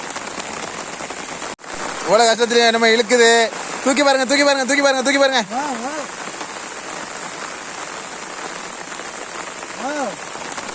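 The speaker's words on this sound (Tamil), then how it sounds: "எவ்வளவு மழை பெய்யுதுன்னு" Steady rain falls outdoors during a fishing trip, a constant broadband hiss running through the whole stretch while people talk over it at close range.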